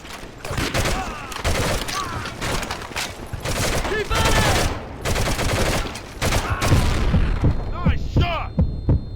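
Gunfire in Medal of Honor: Heroes, a 2006 handheld shooter, comes as repeated bursts and single cracks mixed with battle effects and a heavy low hum, with voices shouting over the fighting.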